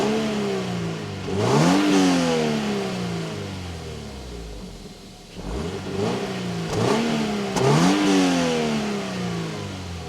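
Inside a 2025 Subaru BRZ TS, the engine cranks and catches, then revs up in three rising sweeps with falling returns to idle between them, loud and close.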